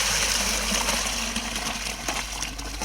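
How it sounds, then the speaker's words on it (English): Water poured from a bucket to rinse Osage orange seed, a steady, close, continuous gushing splash that holds at an even level throughout with no talk. "Keep rinsing, keep pouring,"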